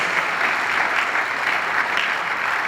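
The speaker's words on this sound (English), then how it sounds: "So give a massive round of applause for yourselves" Sustained round of applause from an audience at a university speaker series event, dense steady clapping throughout with no voices on top.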